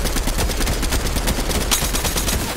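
Sustained gunfire during a video game gunfight, a dense, loud, continuous rattle of rapid shots with no pauses and no speech.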